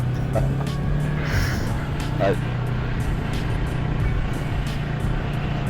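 Street traffic rumbles along a road in Cochabamba's north zone in Bolivia, heard from a rider on a Yamaha MT-03 motorcycle, with a steady engine drone, passing vehicles and occasional sharp noises.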